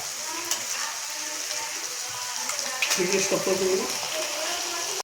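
Mutton with garlic and ginger paste fries in a pan with a continuous bright sizzle, then a burst of stirring and scraping near the end; a faint voice may sit under it.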